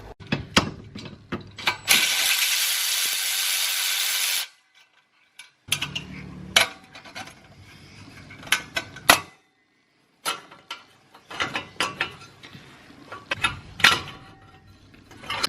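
A wrench or ratchet loosens the V-band clamp bolt on the turbo dump pipe of a Nissan RB25DET, with close bursts of ratcheting clicks and metallic taps separated by short pauses and one longer steady whirring stretch.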